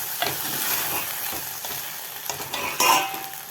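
Brinjal (eggplant) being sautéed in a pan for a tamarind masala gravy, with a steady close sizzle broken by stirring scrapes and a few louder clinks near the end, and no voices.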